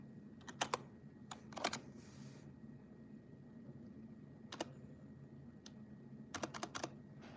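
Bursts of typing on a computer keyboard, clusters of quick key clicks separated by pauses, fairly close and alone over a low room hum.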